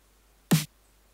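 Single dry snare drum hit from FL Studio with the delay effect switched off, one short sharp crack with no echo tail, alone in quiet.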